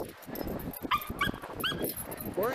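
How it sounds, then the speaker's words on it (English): A dog gives a quick run of short, excited barks and yips mixed with whimpers, close and fairly loud, while a person's voice is also heard. "Big time attack dog."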